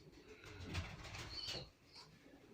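Young Van Loon racing pigeons coo softly in a breeding box, a low throaty murmur close by with a faint rustle of birds settling.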